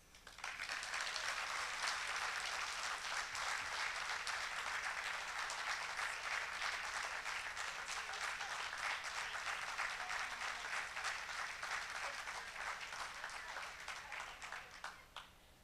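A large audience at an alumni and community awards ceremony applauds steadily for about fifteen seconds, a broad, even clatter of many hands at moderate distance, fading slightly at the close.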